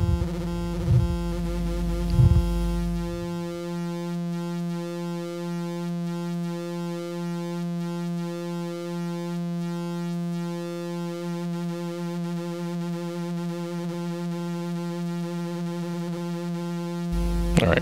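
A steady buzzy synthesizer tone with rich harmonics from a hard-synced oscillator on a Northern Light Modular Tricillator 2AT holds for most of the clip, preceded by a few brief bursts and ending with a short jump.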